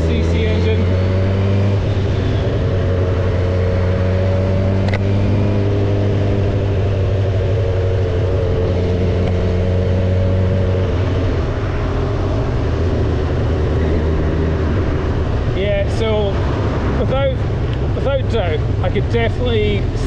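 A Honda CB1000R 1000cc motorcycle engine rumbles steadily while riding, a low droning hum with wind rush that shifts in pitch as speed changes, ending with brief faint voice-like sounds near the close.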